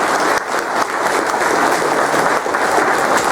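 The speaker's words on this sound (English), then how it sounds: "A round of applause for our candidates." Steady applause from an audience at a candidates' forum for state House District 113, a dense wash of clapping hands lasting throughout, close and fairly loud with no talk over it.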